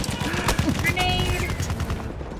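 Rapid gunfire from a rifle in the World War I shooter Battlefield 1, dense cracking shots and battle noise packed close together and loud throughout, with a voice speaking over the fighting.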